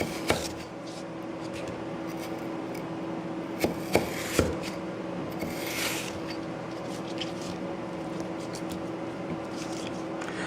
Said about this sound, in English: I'm just going to go through and cut them into steak fries